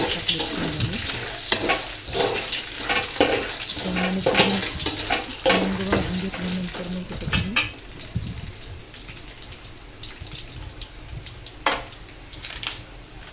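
Peanuts fry in hot oil with a steady, dense crackling sizzle and occasional clinks of a stirring utensil against the pan, close up and continuous throughout.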